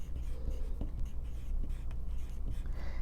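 A pen writes a name on paper, soft scratchy strokes with a few light taps, close and quiet over a low background hum.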